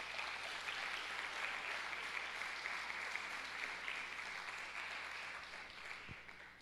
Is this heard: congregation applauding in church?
yes